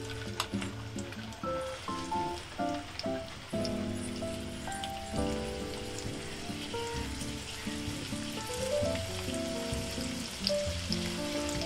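Onions dropped into plenty of hot oil for egg bhurji crackle and spatter steadily at close range, a dense patter with faint tonal clinks mixed in, with no talking.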